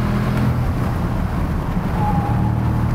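A Bentley GTC sports car with the smaller engine cruises along, its engine hum and tyre roar heard steadily from inside the cabin, loud and continuous with a faint whine rising briefly.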